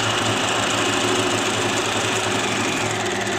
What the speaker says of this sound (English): I'll now do a back stitch to secure this point and continue to close the seam.